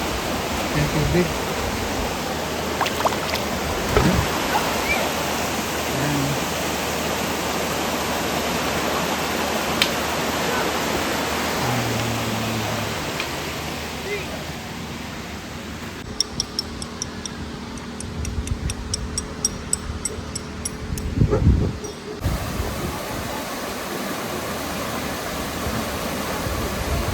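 Water flows on a mountainside in a broad, steady rushing hiss like a small waterfall or stream, close and continuous, with scattered clicks and brief noises near the microphone.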